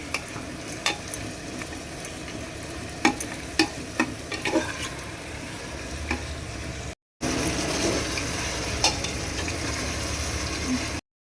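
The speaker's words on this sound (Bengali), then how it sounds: "মশলাটা ভালো মতো কষে যাক তারপর মাটনটা দেবো" Spices fry and get stirred in a pan for mutton curry, a soft constant sizzle with repeated scraping and tapping strokes of a spoon, briefly interrupted, then continuing steadily, with no voices.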